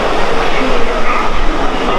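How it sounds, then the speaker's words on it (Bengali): A local train arrives at Howrah railway station, producing a loud, dense rumble of rolling rail noise blended with the busy din of the platform. "সামনে একটি লোকাল ট্রেন এসছে, আর সেই লোকাল ট্রেনে প্রচুর মানুষ এই হাওড়া স্টেশনে এসে নেমেছে,"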